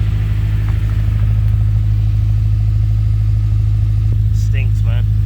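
A K-swapped Honda Civic's engine idles with a steady low drone throughout, loud and close, while a voice speaks briefly near the end.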